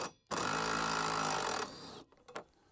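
A ratchet or impact wrench spins a 15 mm nut off a Jeep JL/JT wiper arm in one loud, close mechanical buzz lasting over a second, followed by a few light clicks and taps.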